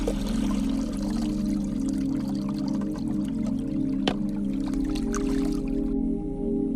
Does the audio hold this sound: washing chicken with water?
yes